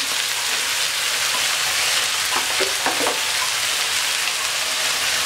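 Chopped carrots, beans and potatoes are stir-fried for a mixed vegetable bhaji, giving a dense, loud, continuous sizzle with a few scraping stirs in the middle. No voices are heard.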